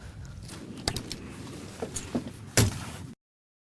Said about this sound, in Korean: 승객이 문을 닫은 걸 안전요원이 확인하면 자동으로 출발합니다.